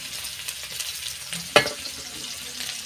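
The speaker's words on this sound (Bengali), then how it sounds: "পেঁয়াজটা একটু লাল লাল করে ভেজে নেব।" Chopped onion fries in oil with whole garam masala and a bay leaf, giving a steady close sizzle with a single sharp clink midway.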